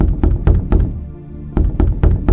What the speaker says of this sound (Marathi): जोर जोरात दरवाजा वाजवू लागला